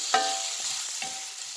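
Steak strips with onions and peppers sizzling in a pan for a Philly cheesesteak burrito, with a steady close hiss and a couple of brief scraping stirs, no voices.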